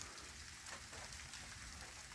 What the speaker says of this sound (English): the raindrops are getting bigger. Come on, rain.